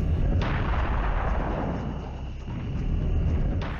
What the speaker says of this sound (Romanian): un tun care trage cu ghiulele, proiectile care pot trece prin mai mulți inamici